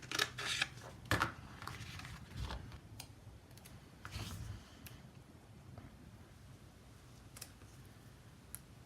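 Scissors cut paper close by and quietly, several crisp snipping strokes near the start and middle, then scattered light clicks and ticks in an otherwise quiet room.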